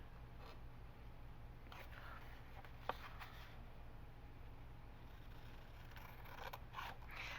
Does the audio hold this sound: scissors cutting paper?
yes